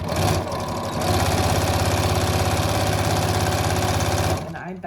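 A sewing machine stitches a fleece qaspeq with a steady, fast mechanical whir and clatter that runs evenly for about four seconds, then stops abruptly near the end.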